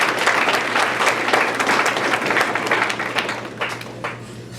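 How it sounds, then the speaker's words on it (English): Audience applause at an athletic awards ceremony for an assistant coach, with loud, dense clapping that thins out and fades toward the end, with no talking over it. "So he demands a big round of applause."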